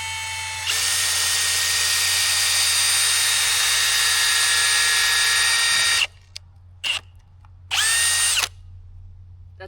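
A power drill fitted with a long, foot-length bit whines loudly and steadily for about five seconds, then stops, followed by a few short bursts and one more brief run, close and with no talking.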